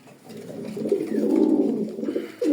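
Soft, throaty cooing of racing pigeons close by, a continuous murmuring call with no talking.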